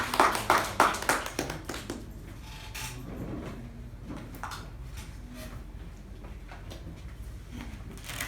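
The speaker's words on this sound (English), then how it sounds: "the general evaluator, Toastmaster Zulekha, with a huge round of applause." Applause from the audience at a Toastmasters club meeting, a dense burst of clapping for about two seconds that quickly thins into scattered claps and fades into room noise.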